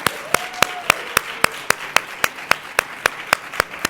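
Clapping at a parents' association meeting: sharp, evenly spaced claps repeat in a steady rhythm, loud and close, with no talking over them.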